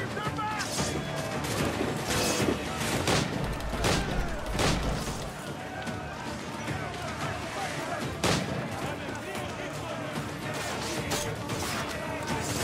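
Ship cannons firing in the pirate video game Assassin's Creed Black Flag, a ragged volley of sharp booms and cracks over clattering ship noise and shouting, loud and repeated through the scene.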